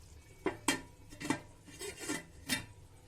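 A lid goes back onto a cooking pot of Mughlai chicken gravy, giving a few sharp metallic clinks and scrapes spread over about three seconds, fairly close and quiet, with no talking.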